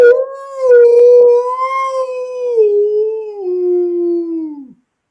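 A husky dog lets out one long, loud, close howl that wavers and slowly falls in pitch before stopping abruptly, with no other sounds around it.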